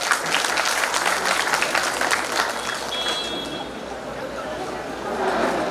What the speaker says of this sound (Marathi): एकदा त्यांच्यासाठी जोरदार टाळ्या.